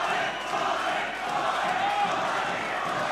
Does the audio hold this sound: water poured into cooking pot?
no